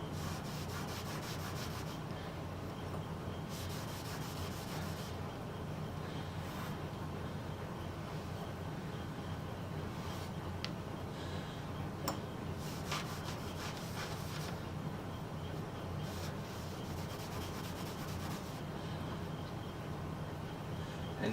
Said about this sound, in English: A little bit of stain on the towel works just as well to wipe the wax,